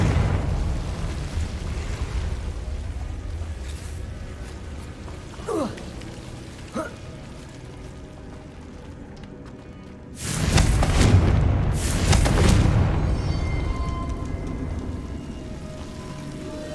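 Confringo fire-blast spells in Hogwarts Legacy land as a pair of loud, broad booming bursts late on, after a quieter stretch of low ambience with a couple of faint whooshing swipes.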